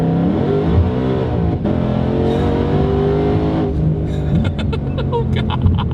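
A Ford Shelby GT500 engine revs loudly and close up, with a deep, steady, harmonic-rich rumble that rises in pitch before settling, and a burst of rattly crackle near the end.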